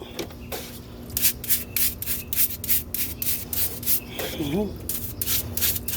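A greasy, grimy part being scrubbed clean, with rhythmic close brushing and rubbing strokes and a brief squeaky tone partway through.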